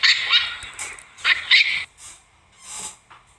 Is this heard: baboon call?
yes